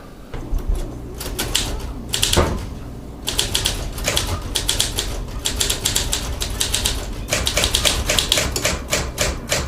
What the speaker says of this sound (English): Kids having fun with typewriters.